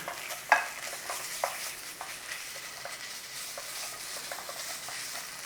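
Tomato puree frying over a low flame in a pan for a coronation chicken rice bake: a soft, steady sizzle with a few light scrapes and taps of stirring, quiet and close, no talking.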